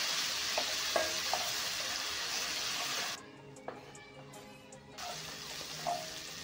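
Whole spices and ginger-garlic paste fry in hot oil with a steady broadband sizzle, close and constant, with a few light clinks of stirring and a brief quieter stretch midway.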